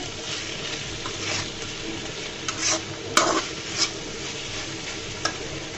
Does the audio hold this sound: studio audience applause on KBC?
no